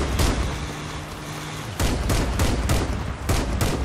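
A big vehicle-mounted cannon fires in a Crossout battle, with loud, dense blasts and several sharp booming shots in quick succession, heavy and close with constant rumbling combat noise.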